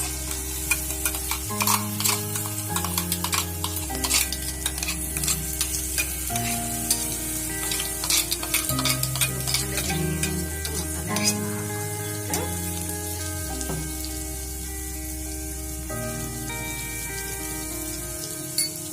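Masala frying in a pan in a village-style kitchen, with a spoon scraping and stirring in repeated strokes over a soft continuous sizzle, close by and moderately quiet.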